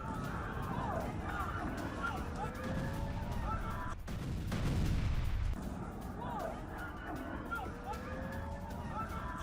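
Naval Sea Dome air defence intercepting Houthi missiles, heard in news footage as a sustained roaring blast that swells for about a second and a half over a constant rumbling din and crowd-like background noise.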